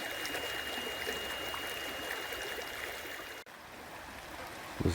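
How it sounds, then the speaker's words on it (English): Little Mission Creek in Belfair State Park, Washington, a small salmon-spawning stream, gives a steady, gentle rushing and trickling wash that holds even throughout, with a brief dip near the end. "But another little pretty creek in here."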